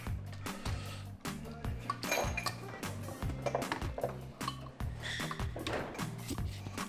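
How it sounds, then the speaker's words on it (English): A metal valve spring compressor for a Honda Civic engine build is picked up and handled, giving a string of close, sharp metallic clinks and clatters in quick, irregular succession. "This is a valve spring compressor"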